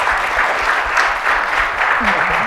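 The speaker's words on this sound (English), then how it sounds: "And round of applause." Audience at a customer marketing summit breaks into a round of applause: dense, steady clapping sustained at an even, fairly loud level for the whole stretch, with a brief voice sounding near the end.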